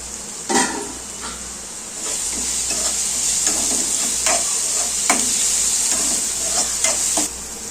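Onions frying in a pan for a radish, dal and coconut curry, a steady loud sizzle with occasional stirring clatters throughout, no talking.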